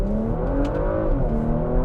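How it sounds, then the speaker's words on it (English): An SUV engine and exhaust pull hard while accelerating uphill in third gear, giving a steady, loud droning growl with rising harmonics from inside the cabin and no talking. "you can hear that exhaust, you can feel the purr of the engine"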